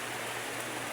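Rain falls in a continuous, even hiss with no breaks or voices, a moderate wash of noise heard during a delivery rider's work.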